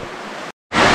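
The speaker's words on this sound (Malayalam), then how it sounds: "ഇതാണ് ആ വെള്ളച്ചാട്ടം." A waterfall's broad, rushing hiss is heard close up, cut by a brief moment of silence before the roar returns louder.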